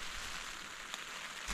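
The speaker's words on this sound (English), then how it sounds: "The sound of the rain on the tent is well nice" Rain patters steadily on a tent at a lakeside wild camp at night, a soft, even hiss with a few faint individual drops standing out.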